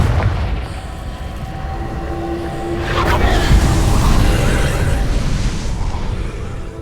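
A Confringo fire spell from Hogwarts Legacy bursts as a deep boom that swells into a rumbling blast and fades over several seconds, with whooshing game effects around it.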